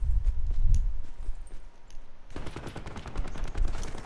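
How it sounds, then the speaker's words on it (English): Rapid bursts of video game gunfire in Call of Duty Black Ops 4 crackle through the scene, sharp repeated shots at mid distance, with a denser stretch of continuous firing in the second half. "why do I hear so many gunfire"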